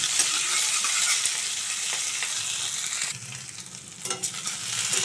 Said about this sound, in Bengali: এবার আমি দিয়ে দেবো কেটে রাখা আলুগুলো। এটাকে একটু ভালো করে ভেজে নেব।